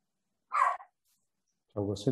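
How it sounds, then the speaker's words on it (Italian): A small dog barks sharply twice, once alone and again a moment later, each bark short and high-pitched, with a quiet gap between them. "Sento un cagnolino"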